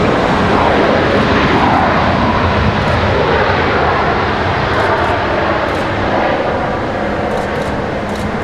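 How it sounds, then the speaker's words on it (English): A Boeing 757 airliner passes close by at Washington Dulles airport, its engines making a loud, steady roar that fills the whole stretch without a break. "It's not often we get to see a 757 up so close and personal."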